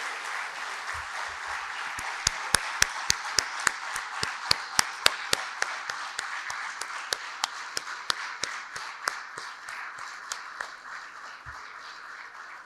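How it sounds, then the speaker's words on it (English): Audience at the inaugural session of a medical conference applauds steadily, with scattered loud individual claps standing out sharply over a dense, even wash of hands that slowly thins toward the end. "Please join me in giving a big round of applause to Dr. Safia Zafar Siddiqui."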